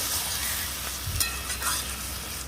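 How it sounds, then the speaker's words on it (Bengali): Goat meat sizzles in a wok as a spatula stirs it, producing a steady frying hiss with a couple of brief scraping knocks. "মাংসটা কড়াইয়ে দিয়ে হালকা করে নেড়ে নেব"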